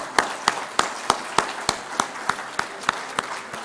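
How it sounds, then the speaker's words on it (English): A single person's claps at an awards ceremony for the chemicals and petrochemicals industry, a slow even series of about eleven sharp claps, close and distinct. "let's give a big clap to the awardees."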